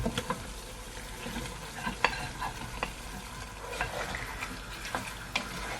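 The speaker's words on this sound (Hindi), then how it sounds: "अच्छे से गोश्त को मिक्स करेंगे। 1 से 2 मिनट के लिए गोश्त को हमने भून लेना है।" Bone-in mutton, about a kilo, frying in a pot while it is stirred, with a steady loud sizzle under the scrape and clatter of a spoon against the metal. No voices.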